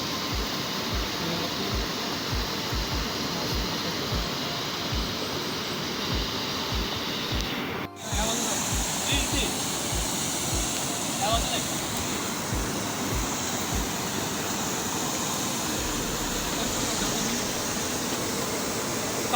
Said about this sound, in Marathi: हा छानसा असा आपला पियाळी नदीचा धबधबा